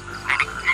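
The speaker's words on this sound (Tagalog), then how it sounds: "Kokak, kokak, tunog ng mga palaka na nakabukaka." Frogs croaking in a short burst of two or three quick, raspy calls, close and clear with no talk over them.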